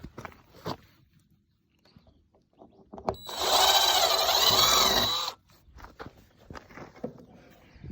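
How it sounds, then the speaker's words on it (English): A power drill whines steadily for about two seconds, close and loud, boring a pilot hole in the middle of a blue plastic barrel, with quiet handling noises before and after. "I'm drilling a pilot hole."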